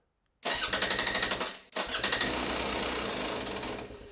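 A two-stroke dirt bike engine, freshly rebuilt top end, fires up close by with a loud rapid crackle, cuts out briefly, then catches again and runs with a raspy revving buzz.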